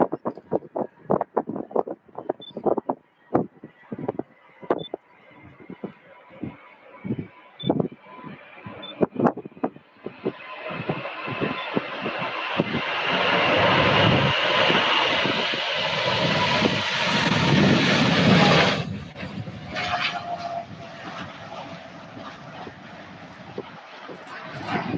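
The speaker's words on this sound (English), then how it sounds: "UPS 747 out to Honolulu, Hawaii." UPS Boeing 747 departing Louisville airport, its engine roar swelling into a loud, sustained rumble and whine as it rolls and lifts off, then fading, with scattered knocks and clatter heard before the engines build.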